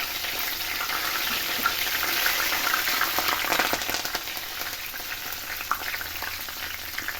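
Curry leaves frying in hot oil for a koramenu fish pickle, with the gas switched off, give a steady, close, dense crackling sizzle that rises slightly in the middle and carries on without a break.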